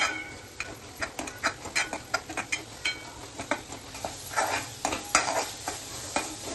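Pav bhaji masala and coriander powder stirred and frying in oil with onion and tomato, a steady sizzle broken by repeated scraping strokes of a spoon against the pan, close and clear.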